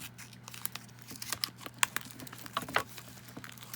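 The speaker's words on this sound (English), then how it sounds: "I'm gonna take this wrapping off. Maybe I'll just cut it." Plastic wrapping being removed from a craft supply package, heard as close, crinkly tearing and rustling in irregular bursts over a low steady hum, with no talking.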